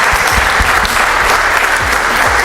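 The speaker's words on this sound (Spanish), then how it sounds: "Quiero pedirles un fuerte aplauso para nuestros panelistas." A studio audience gives the panelists a strong round of applause. Loud, close, dense clapping holds evenly from start to finish.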